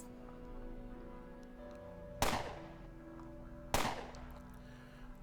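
Gunfire in the video game Underrail Expeditions, two sharp, loud shots about a second and a half apart over a quiet hum of game ambience.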